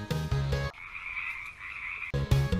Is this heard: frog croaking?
yes